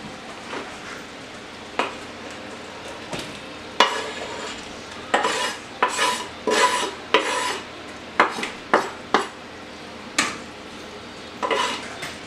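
Sausage, onions and peppers stirred in a pan with their juices, a soft sizzle under repeated spoon scrapes and knocks against the pan, close by, with no talking.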